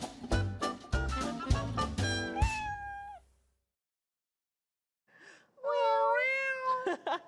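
The 'Pulo do Gato' jingle from a Brazilian TV show, built from loud, close cat meows: a rapid run of meows, a short silence, then a long rising caterwauling meow.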